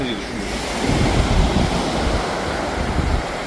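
Wind gusts buffet the microphone at an old harbour pier by the sea, a loud broadband rush that swells and eases, with surf in the background and no clear talk.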